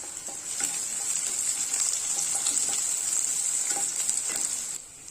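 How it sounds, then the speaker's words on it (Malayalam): Chopped shallots and curry leaves sautéing for parippu curry, a steady close sizzle with occasional stirring scrapes running throughout and fading slightly at the end. "6 ചെറിയുള്ളി ചെറുതായിട്ടൊന്ന് കട്ട് ചെയ്ത് വെച്ചിട്ടുണ്ട്, ഇത് ചേർത്ത് കൊടുക്കാം. ഇതൊന്ന് വഴറ്റി കൊടുക്കണം"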